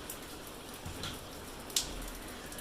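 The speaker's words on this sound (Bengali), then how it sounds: "বৃষ্টি তো হচ্ছে" Steady rain falls through the whole stretch as an even patter of drops, with one brief louder drip or splash standing out near the middle; no one speaks.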